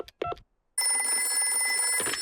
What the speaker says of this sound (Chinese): 你们不要担心，我马上打个电话给棕熊医生。